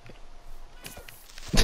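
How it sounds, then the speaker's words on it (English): A cat meows in Minecraft, a short, fairly faint call followed by a louder, brighter meow at the end, with no talking over it. "It's your cat."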